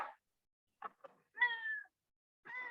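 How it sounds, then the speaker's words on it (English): A pet cat meows several times during a Zoom call: short separate mews followed by a longer, drawn-out one and another at the end, fairly close and alone against silence. "I hear the cat."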